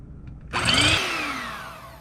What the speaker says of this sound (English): We're going to whip the eggs until we get to some stiff peaks.